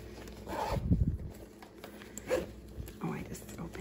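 An interior zipper pocket on a petite Fossil crossbody purse is unzipped and zipped shut: a few short, close rasping zip strokes with soft handling noise between them, fairly quiet.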